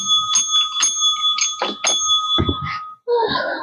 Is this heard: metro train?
no